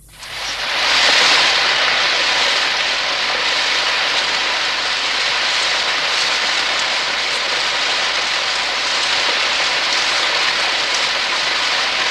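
Heavy rain pours outside a cave, a dense, loud, continuous hiss that swells in over the first second and then holds steady with no voices.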